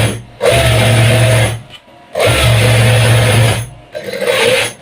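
A sewing machine stitches a men's shalwar in three loud, steady runs of fast whirring, each separated by a short pause.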